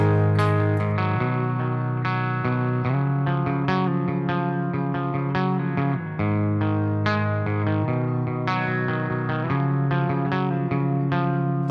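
Electric guitar on a clean tone run through a Tomsline Plexion pedal, strummed chords ringing out with steady sustain and chorus-like shimmer, played alone and fairly loud.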